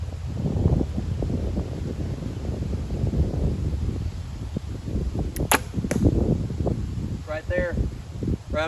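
An arrow loosed from a recurve bow at about 20 yards, a quick snap and whoosh followed by a thud, in an outdoor setting with wind noise and someone talking throughout.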